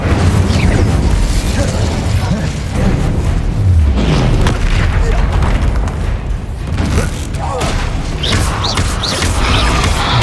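Incendio fire spell being cast in the video game Hogwarts Legacy during a fight with a troll, producing loud booming bursts and crackling blasts amid a continuous dense rumble of combat.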